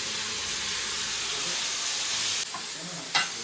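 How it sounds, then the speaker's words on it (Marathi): Food roasts in a mix of ghee and oil in a hot pan, giving a steady, close sizzling hiss with a few brief scrapes and clicks near the end. "थोडंसं तूप आणि थोडंसं तेल भाजायला चांगल्याने भाजते"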